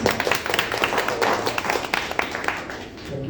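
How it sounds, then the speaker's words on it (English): Audience at a symposium clapping steadily, a warm round of applause from a room of people that carries on throughout. "So give him a warm applause and enjoy the music."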